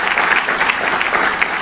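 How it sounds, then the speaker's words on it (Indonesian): A church congregation applauds, a dense, even wash of many hands clapping together for a couple of seconds, fairly loud and with no speech on top. "Tepuk tangan buat Tuhan."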